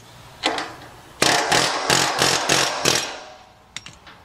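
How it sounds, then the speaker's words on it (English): A pneumatic air hammer with a short bit fires in a rapid series of loud, sharp bursts, pausing between, with a few short hits at the end. "Just take the old air hammer."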